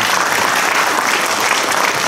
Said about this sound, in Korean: 이 부분에서 흡족하시다면 박수 한번 치십니다